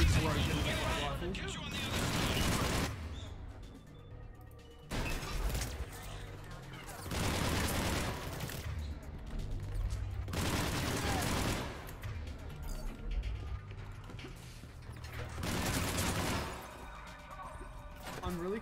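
Rifle gunfire in the Mass Effect 3 video game comes in long rapid bursts separated by short pauses, loud and up front, with someone talking between the volleys.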